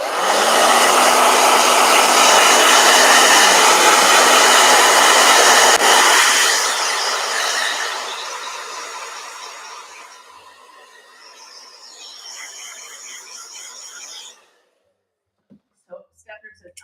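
A handheld blow dryer runs loud and steady for about six seconds while drying a watercolor painting of Ernie and Bert, then drops lower and fades, cutting off near fourteen seconds before a few faint knocks.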